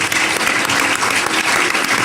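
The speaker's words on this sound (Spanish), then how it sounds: "Aplausos, por favor." A crowd at an evening event applauds a government minister on arrival, the clapping loud, dense and sustained from start to finish with no voices on top.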